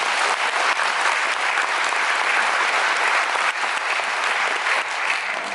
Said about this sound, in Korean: 다시 한 번 박수 한 번 보내주세요